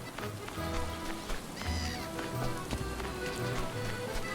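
Rain in the survival video game Stranded Deep: a steady, dense patter of drops on surfaces with a constant wash of noise, close and moderately loud, and no voices.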